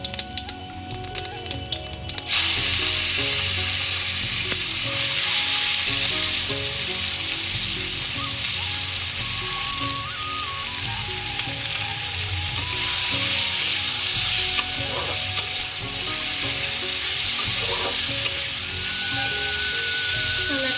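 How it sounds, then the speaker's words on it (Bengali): Loud, continuous sizzling of cumin seeds hitting hot oil in a kadai, starting with a sharp crackling burst and settling into a steady frying hiss. "কড়াইয়ে তেল গরম করে জিরে ফোড়নে দিয়ে এগুলো দিয়ে দেবো"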